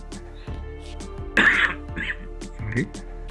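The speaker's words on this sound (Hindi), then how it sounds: "खांसी आ गई।" A single throaty cough bursts out close by, followed by a couple of smaller throat-clearing sounds over a low background hum.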